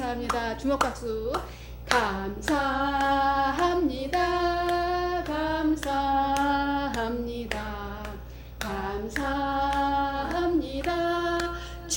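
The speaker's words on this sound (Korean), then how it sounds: "주먹 박수" A church congregation claps with their fists in rhythm during a worship chorus. The muffled beats sit under loud group singing with a leading voice.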